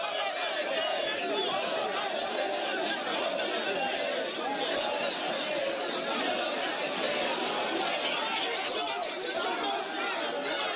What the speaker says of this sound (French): Les gendarmes ivoiriens ont le plus grand mal à contenir la foule.